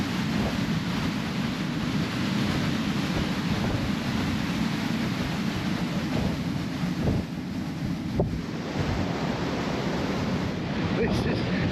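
Strong wind buffets the microphone in a steady, roaring rush at a high, exposed spot in Augusta, continuous and loud throughout with no clear breaks.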